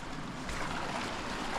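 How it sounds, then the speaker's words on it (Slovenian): People wade through warm thermal river water in an Albanian gorge, producing a steady rushing splash of moving water with a constant broadband wash and no distinct individual strokes. "Evo, spet malo brodenje nas čaka."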